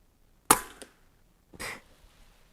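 An FX Wildcat MK III GRiP air rifle fires JTS Dead Center 18.1 grain pellets: a sharp, close crack followed about a second later by a second, softer snap, with quiet in between.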